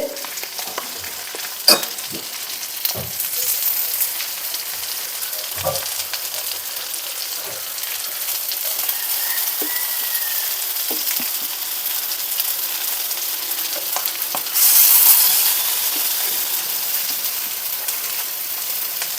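Dosas frying on a hot griddle give off a steady close sizzle, with occasional scraping clicks and a brief louder hiss of steam near the end.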